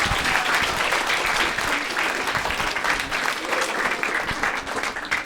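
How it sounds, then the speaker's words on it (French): Audience of schoolchildren applauding athlete Solène Gicquel at a conference; sustained, fairly loud clapping from a crowd that carries throughout and thins slightly toward the end. "Merci, on peut l'applaudir encore une fois"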